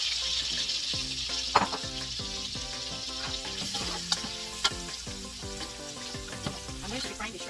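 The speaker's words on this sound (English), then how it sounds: "I'm going to be frying the shrimp for like 2 minutes" Shrimp sizzle in a little oil in a pan, a steady crackling hiss with scattered sharp pops and spatters, close and moderately loud.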